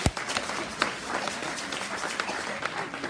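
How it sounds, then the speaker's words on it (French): Audience applause at a charity event supporting children and families, a steady wash of many hands clapping that carries on without a break, with little speech over it. "je vous demande d'applaudir fortement."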